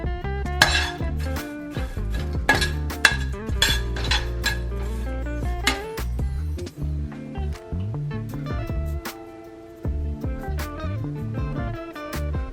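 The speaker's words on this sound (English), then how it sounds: "Put them on and then we have to toast them. Just turn them around a little bit." Coconut chips toasting in a pan as a utensil turns them, giving close, irregular metallic clinks and scrapes in quick clusters with short pauses.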